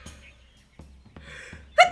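In the video game Myst IV: Revelation, a single sharp sneeze bursts out near the end, after a stretch of quiet background noise and a few soft clicks.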